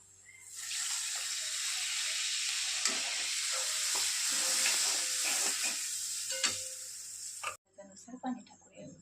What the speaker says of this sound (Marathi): मिक्स झाल्यावर त्यामध्ये आपण पाणी सोडू